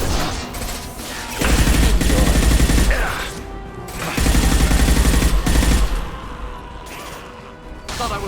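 Bursts of rapid gunfire and heavy impacts from combat in Mass Effect 2, loud dense volleys alternating with brief mechanical lulls.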